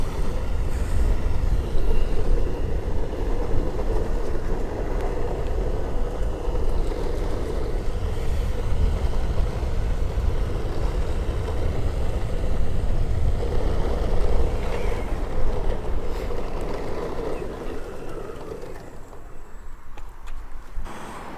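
A Board 365 electric skateboard on the move gives a steady, loud rush of wind buffeting and rolling rumble, continuous throughout before easing off near the end.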